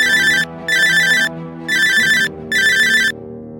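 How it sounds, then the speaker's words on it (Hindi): An old phone's harsh ringtone rings loud and close in four evenly spaced bursts with short silent gaps between them. "तभी उसके पुराने फोन की कर्कश रिंगटोन बजी"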